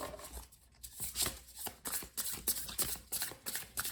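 Tarot cards being shuffled by hand, a quick run of papery riffling and slapping bursts in an uneven rhythm, close and moderately quiet, with no talking.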